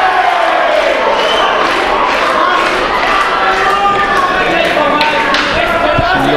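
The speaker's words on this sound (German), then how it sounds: "Merkt auch das Publikum jetzt und feuert den Kämpfer vom Schuhgym Zwickau jetzt an." Crowd at the Fight Club Plauen 2014 combat event cheering on a fighter from a Zwickau gym, a continuous roar of shouting and calls with commentary talk running over it throughout.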